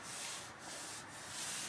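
Sanding the clear coat on a car body panel gives a close, steady rasping rub in two or three quick back-and-forth strokes over under two seconds, quiet and without talk.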